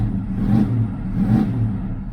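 A car with a 350 engine idles close by with a loud, low rumble that pulses in a slow, uneven rhythm, with no voices.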